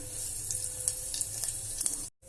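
Cumin seeds sizzle in hot oil in a pressure cooker for vegetable pulao, a steady close crackling hiss with small pops that cuts off briefly near the end.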